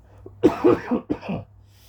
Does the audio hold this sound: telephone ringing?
no